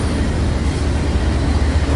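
A freight train with a diesel locomotive rolls past close by, making a loud, steady low rumble and wheel roar that holds level throughout without any break.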